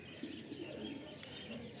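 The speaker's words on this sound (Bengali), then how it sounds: "খুব ছোট্ট পায়রা, শর্ট পায়রা।" A very small, short-bodied female pigeon in a loft gives soft, low coos in a few close, gentle pulses, with no voices.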